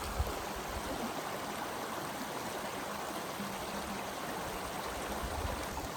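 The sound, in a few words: creek water flowing over rocks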